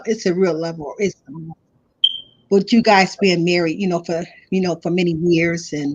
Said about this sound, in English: my alarm going off. That's my alarm time for me to get up for work.